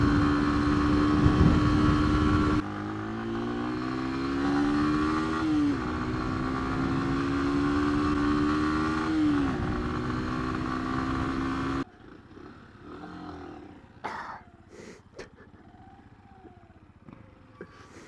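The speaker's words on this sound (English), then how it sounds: "Here's a little bit of me riding it a little bit more spiritedly." A Lexmoto Assault 125cc motorcycle is ridden hard, its engine droning loud and close, rising in pitch through the gears with brief dips at shifts, then cutting to quieter road noise with a few knocks.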